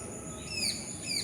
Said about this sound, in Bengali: ওই ডাব গাছটায় মনে হয় টিয়া পাখি আছে, দুটো কি সুন্দর বসে আছে